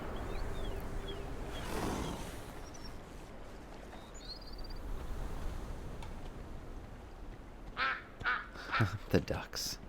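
Ducks in World of Warcraft: Dragonflight's Waking Shores zone quack in a burst of several close, fairly loud calls near the end, rising over steady ambient game wash after quieter stretches.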